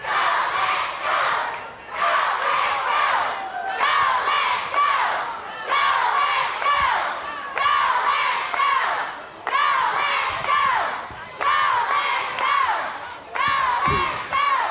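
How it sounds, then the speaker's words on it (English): Wrestling arena crowd chanting in rhythmic, loud bursts during a tag-team match, the phrases repeating steadily with brief gaps between them. "And the crowd picks up a chant."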